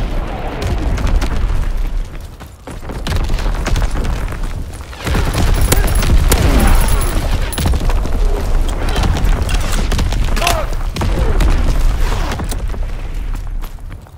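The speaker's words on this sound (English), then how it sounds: "Incoming enemy artillery." Incoming artillery pounds the battlefield in Call of Duty WWII, with continuous heavy booms and rumbling blasts layered over crackling gunfire, loud and dense throughout with a brief lull.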